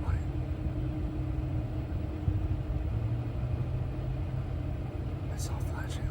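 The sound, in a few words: security car pulling up and idling nearby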